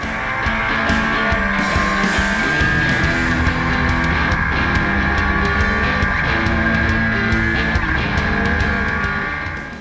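A small 1300cc race car engine, a Sierra RX3, screams at high revs during the Pikes Peak hill climb, holding a loud, steady, sustained howl with a slight waver and tire noise underneath.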